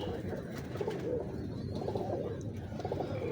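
A Ferozpuri pigeon gives soft, repeated throaty coos from close by, several rolling phrases in a row. A quiet human voice sits low underneath.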